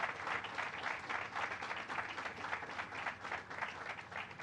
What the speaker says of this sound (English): you can give that a loud round of applause